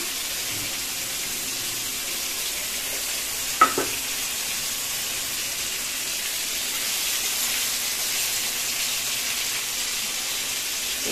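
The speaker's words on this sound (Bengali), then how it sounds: "দিয়ে দিলাম আমি ডিমগুলো, আগে লবণ হলুদ লাগিয়ে নিয়েছিলাম।" Salt-and-turmeric-coated desi chicken eggs fry in a hot pan with a steady, even sizzle throughout, broken once by a brief clatter.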